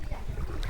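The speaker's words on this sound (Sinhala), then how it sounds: "ඊළඟ ඉස්සරහින් පේන ඇති බෝට්ටුවක් තියෙනවා. මිනිස්සුන්ව දාගෙන යන්න." A boat carrying people through floodwater during heavy flooding, heard as a brief, low, steady rumble of water and wind, faint and somewhat distant.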